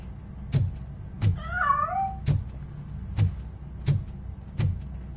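A cat in RoboCop: Rogue City lets out a clear, wavering meow in the middle, set against regular low thumping beats that repeat about every second, with no talking.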